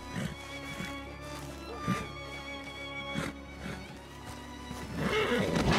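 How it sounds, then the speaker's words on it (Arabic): A horse in the video game Red Dead whinnies several times in loud, close, shrill neighs over a steady low background hum, with a busier burst of sound at the end. "لكن في حصان قدامي"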